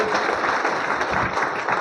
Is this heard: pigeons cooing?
no